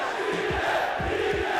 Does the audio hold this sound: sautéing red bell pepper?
no